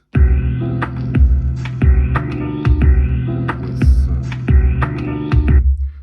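Lo-fi beat played on a Sonicware Liven Lofi 12 groovebox, with heavy thumping kick hits on a steady repeating pattern under warm muffled chords and light percussion, loud and close, ending abruptly.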